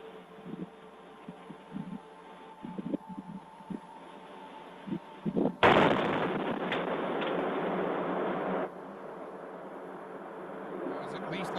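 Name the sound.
distant explosion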